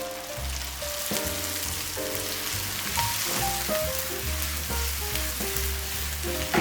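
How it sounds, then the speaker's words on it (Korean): Minced garlic sizzles in a hot wok for jjamppong with a steady crackling hiss, while light background music plays underneath. "그리고 다진 마늘을 넣고 빠르게 볶아줄게요."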